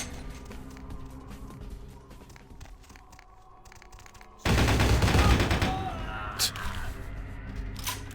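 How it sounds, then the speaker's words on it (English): A shotgun fires in the video game Vampire: Bloodlines, a sudden loud broadband blast about midway that rings out and decays, followed by smaller clattering impacts, over quieter game ambience. "A shotgun."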